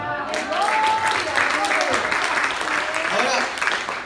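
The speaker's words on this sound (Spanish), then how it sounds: "Denle un aplauso." Spanish-speaking church congregation applauds during a Father's Day service, a steady wash of clapping mixed with voices and cheering calls layered over the clapping.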